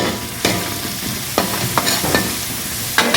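Curry leaves dropped into hot oil in a pan crackle and sizzle loudly, with several sharp bursts over a steady frying hiss, close up and without speech.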